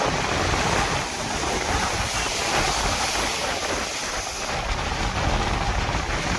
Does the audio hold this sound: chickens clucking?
no